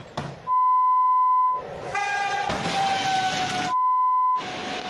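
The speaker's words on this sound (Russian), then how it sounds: "Состав на полном ходу врезался в машину." A train near Ilskaya station in Krasnodar Krai strikes a UAZ vehicle stuck on a level crossing, with loud steady warning beeps cutting in and out around a burst of grinding, rumbling impact noise.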